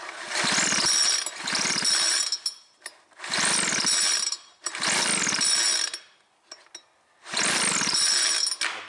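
A $5 garage-sale leaf blower gets repeated pulls on its starter cord, each a loud rasping whir of about a second, five pulls with short pauses between, close up and without talk.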